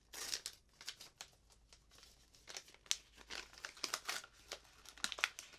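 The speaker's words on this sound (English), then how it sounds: "I've got the envelope right here. So let's open it up." A paper envelope is torn open and handled, giving a close run of dry crinkling and tearing bursts with short pauses between them and no talking.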